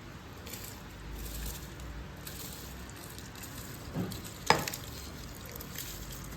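Soaked seeraga samba rice is tipped into a pot of chicken biryani, giving a soft wet swishing and squelching with a brief sharper clatter midway, quiet and close.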